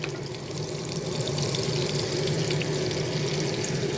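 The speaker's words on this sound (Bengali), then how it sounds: "একটু মাখন দিয়ে দেবো, দিয়ে ফোড়ন দেবো জিরে" Cumin seeds temper in hot oil and butter for pav bhaji, a steady, dense sizzle and crackle that holds evenly throughout with no talking over it.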